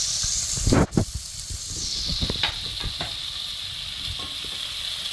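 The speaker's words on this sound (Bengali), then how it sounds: "রান্নাটা সর্ষের তেলে দিচ্ছি, তেলটা গরম হয়ে গেছে। একটু গরম মশলা ফোড়ন দিয়ে দিই, দিয়ে এই পেঁয়াজ কুচিগুলো খুব ভালো করে লাল করে ভাজতে হবে।" Chopped onions frying in hot mustard oil with a tempering of garam masala, a loud close hiss and sizzle that flares as they drop in, then settles into steady crackling frying with occasional stirring clicks.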